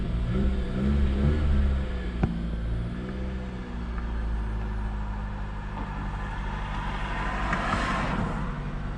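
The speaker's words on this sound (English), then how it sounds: "I'm actually keeping it alive with the gas right here because I can tell it's trying to die" A 2015 Jeep Patriot engine with a fault that makes it stall, held alive by repeated throttle, its idle surging and dipping in steady loud low rumbling revs close by, with no talk over it.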